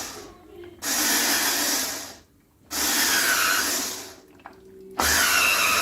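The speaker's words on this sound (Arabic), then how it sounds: "5 ديال الليمونات اللي قطعتهم وغادي نعصرهم في العصاره، نخرجوا العصير ديالهم." Electric citrus juicer squeezing cut lemons, whirring loudly in three separate bursts of a few seconds each, with quiet pauses between runs.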